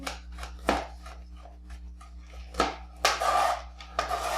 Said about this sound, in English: use a rocking method to mince the garlic